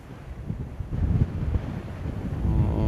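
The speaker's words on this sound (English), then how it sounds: "It's very windy at the minute." Strong wind buffets the microphone in an open field in a steady low roar, surging louder toward the end, with no voices.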